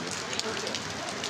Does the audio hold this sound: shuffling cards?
no